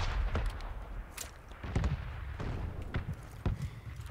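Suppressed VSS rifle shots in PUBG come as sharp single cracks spaced irregularly about half a second to a second apart, punctuating a rumbling game background.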